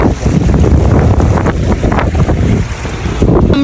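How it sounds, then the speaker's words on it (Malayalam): Strong wind gusts batter the microphone on a hillside by a waterfall, a loud continuous roar with rough buffeting throughout. "ഭയങ്കര കാറ്റാണ്"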